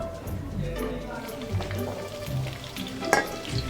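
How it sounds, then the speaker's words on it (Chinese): Onion, scallion and ginger aromatics frying over medium-low heat in hot oil for chili oil, a steady soft sizzle with occasional stirring clinks, while someone talks over it. "开个中小火慢慢炸，"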